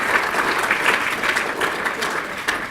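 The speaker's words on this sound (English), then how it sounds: "If you give them all a round of applause" An audience claps warmly for the organisers at the Oxford Hackathon 2017 awards, a dense, steady wash of applause lasting a few seconds with no break.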